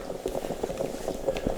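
A moka pot brews coffee at a mountain hut, giving close, irregular bubbling and gurgling pulses that continue steadily with no talk.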